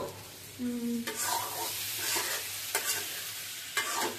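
Shrimp and vegetable curry being stirred and sautéed in a pan, a steady sizzle with a few sharp scraping strokes of the spoon, close and clear.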